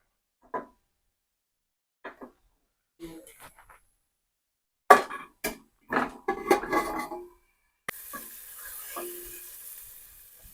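Eggs frying in oil in a pressure cooker: a bright crackling sizzle starts partway through and holds steady, after scattered clinks and short kitchen knocks.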